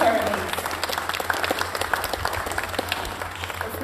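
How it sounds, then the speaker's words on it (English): A crowd claps steadily in a round of applause at the Mount Isa Australia Day Awards and Citizenship Ceremony, honouring community figure Terry Lees, with a brief voice at the very start. "So please, a round of applause for Mr. Terry Lees."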